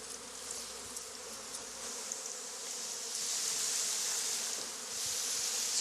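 Honey bees buzz steadily around a branch during a swarm capture on Réunion Island, a dense continuous hum that swells slightly louder toward the end, with no voices.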